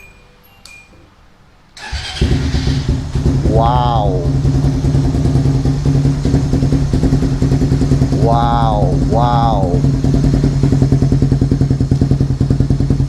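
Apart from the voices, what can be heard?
motorcycle engine starting and revving with Yoshimura exhaust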